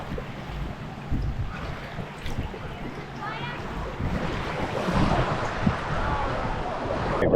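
Ocean surf washes along a beach in St. Martin, a broad continuous roar of waves with wind buffeting the microphone and faint voices underneath.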